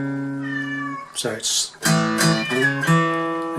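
A pet cat meowing loudly and close during a guitar lesson, several drawn-out meows in a row, with a short bit of speech in between.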